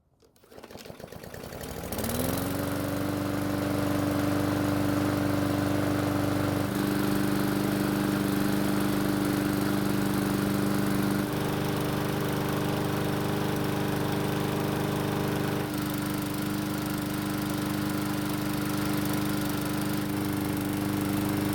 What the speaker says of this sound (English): Surprisingly, the engine sounds better than you would expect for having been through a lot of abuse.